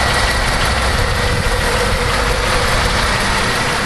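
A Buick LeSabre engine with a lifter tick idles steadily and loudly at close range, a continuous dense rumble with no talk.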